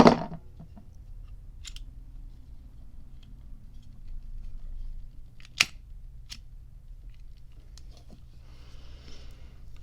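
Scissors snip the wick of a Bentley butane lighter conversion in a few short, crisp, close clicks, with light handling noise between cuts and no talking.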